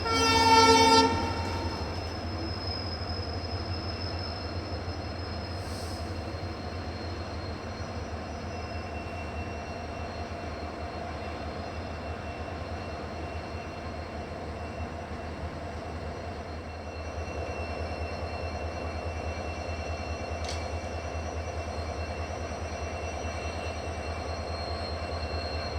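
The Poorna Express sounds its horn briefly at the start while arriving at Londa Junction, then a steady, even rail rumble carries on at moderate loudness.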